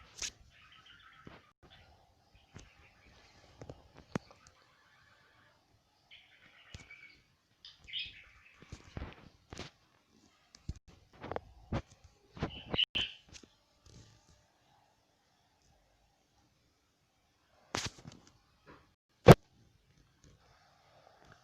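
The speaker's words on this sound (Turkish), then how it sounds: "Arkadaşlar öten kuş bizim." A pet bird in a home chirps and tweets in short, sparse bursts scattered across a quiet room, with occasional sharp clicks and knocks between the calls.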